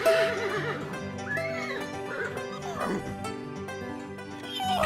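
A horse named Murari in a Hindi moral-story cartoon gives several wavering neighs and whinnies, close and fairly loud, over a steady musical backing.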